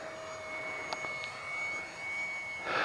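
An electric RC P-51 Mustang scale model plane, 850mm wingspan on a 3S 1300mAh battery, flies with a steady, thin motor whine that drifts slightly and swells louder near the end, with no talk.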